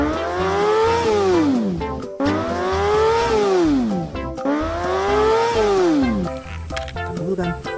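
A red toy racing motorcycle plays a loud, close electronic revving tone that rises and falls in three identical swoops, then trails off into clattering noise.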